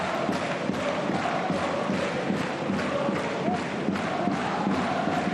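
A home crowd at a football match in Dortmund, a steady dense roar of many voices filling the whole stretch, loud and continuous with small swells and no single voice standing out.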